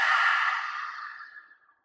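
A single long, steady exhalation during a yoga breathing sequence, breathy and airy, close to the microphone, fading out gradually over about two seconds with no talking.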